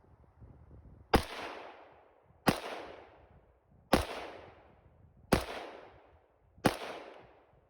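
An AKM rifle with snow packed into its action fires five single shots outdoors, spaced about a second and a half apart, each a sharp, loud crack followed by a quick fading echo, with no talking.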